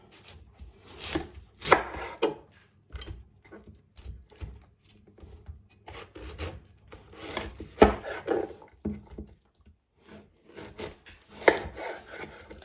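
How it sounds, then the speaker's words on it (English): A knife chops cabbage finely on a board for sauerkraut after the core has been removed, giving irregular clusters of close, crisp cuts with short pauses between them and no talking. "So the aim is to get all the little bits, basically, try and chop it finely."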